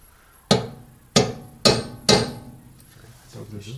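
Small hammer striking an Audi A6 axle in a workshop, four sharp metallic blows at irregular spacing, close and loud, followed by quieter shuffling.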